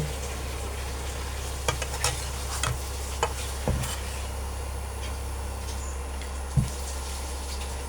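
Three parathas crisp together in mustard oil in a pan, making an even, close sizzle with occasional clicks and light knocks over a low steady hum.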